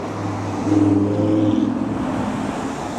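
Cars pass along a Frankfurt street, a steady roadway hum with one vehicle swelling nearby and fading, heard close with no talking.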